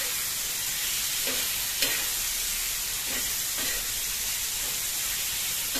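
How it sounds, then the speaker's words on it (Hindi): Liver (kaleji) fries on a tawa over a high gas flame, giving a loud, steady sizzle and hiss, broken by a few soft stirring scrapes, with no talk. "एक से दो मिनट हम फास्ट फ्लेम पे कलेजी को फ्राई करेंगे।"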